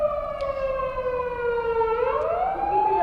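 Police car siren on a wide main street in Tokyo, a steady wailing tone that holds and then sweeps upward, loud and continuous with no talk over it.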